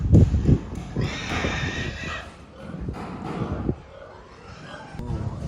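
Pigs squeal from a farm below in Mizoram, with high, drawn-out cries rising and falling over a busy outdoor background, fairly close and loud.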